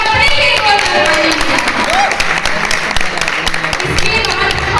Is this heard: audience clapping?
yes